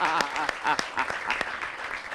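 A short burst of applause from a small crowd at a vocational school event, steady clapping filling the whole moment, a few sharper claps standing out, with no talking.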